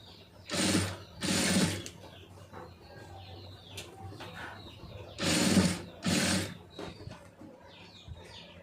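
A sewing machine stitching fabric piping runs in four loud, steady bursts of rapid mechanical clatter, separated by quieter pauses with faint background noise.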